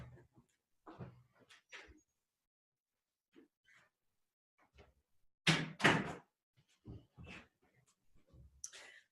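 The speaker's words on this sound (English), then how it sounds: "Sorry, the door got opened." A door swings open in a quiet indoor qi gong class, with a couple of close thumps and clatters among sparse, soft talk and room quiet.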